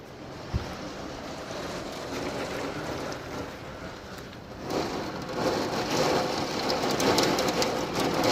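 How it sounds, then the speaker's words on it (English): Heavy rain pours down steadily, a dense hiss that grows louder and heavier partway through, with a single sharp knock near the start. "No, it's not hailing, it's just big raindrops."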